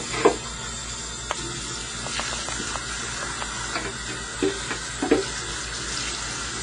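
Tap water runs steadily into a sink while dandelion greens and parsley are rinsed, with soft splashes and occasional knocks as the leaves are handled.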